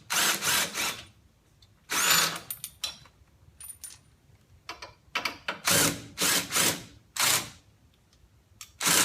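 Ratcheting wrench tightening nuts on a Calvert mono-leaf spring, short bursts of clicking strokes repeated in uneven groups with quiet pauses between, close and fairly loud.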